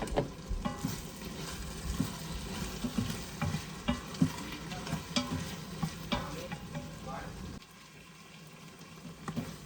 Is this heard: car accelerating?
no